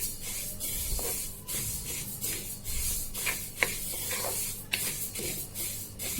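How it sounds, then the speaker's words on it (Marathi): White sesame seeds dry-roasting in a hot kadhai over medium gas, a continuous hissy rustle with rhythmic scraping strokes as they are stirred, close and steady. "त्यासाठी मी आता तीळ भाजून घेते। कढई गरम करत ठेवली होती।"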